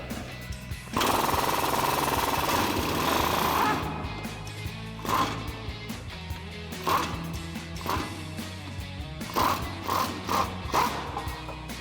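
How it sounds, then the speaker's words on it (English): A 21mm wrench and socket loosening the lower shock mount bolt on a 2019 Silverado 1500 during a lift kit install: a sustained loud power-tool burst, then several short rattling bursts with pauses between. "taking a 21mm wrench and socket to remove that bolt"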